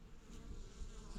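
Honeybees buzzing at a countryside homestead, a steady close drone with no talking.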